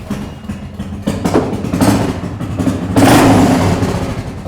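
An engine is pull-started with a starter cord, a close, loud series of rough rasping surges and sputters that build and swell over a few seconds.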